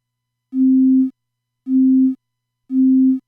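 A pure synthesized sine tone at middle C, note 60, built in Symbolic Sound Kyma 7, sounds three times as short, even, loud beeps with smooth onsets, separated by brief silences.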